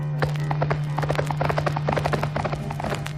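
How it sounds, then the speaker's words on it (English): A horse gallops in a rapid, steady drumming of hoofbeats, close and loud over a constant low hum, from a sci-fi audio drama played on vinyl record. "Racing his horse directly toward the spaceship with Alan close behind him"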